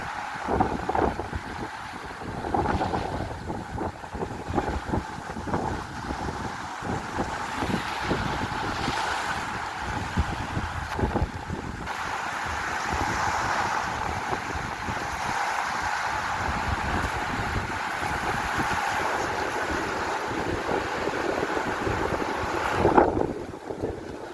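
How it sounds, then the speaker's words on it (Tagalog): Strong wind roars steadily and buffets the microphone, with a rushing surge of waves and water beneath it throughout. "Ay, lakas ng hangin."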